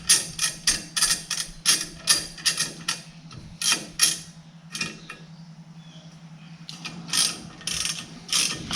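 Repeated bursts of ratchet clicking as a ratchet wrench loosens the three small nuts holding a car steering wheel to its crush can, close by, in short quick runs separated by brief pauses, with no talk.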